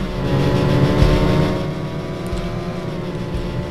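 A Toyota Supra race car engine in the racing game Need for Speed SE, a loud, steady engine drone with layered tones that hold and slowly shift, heard alone without talk.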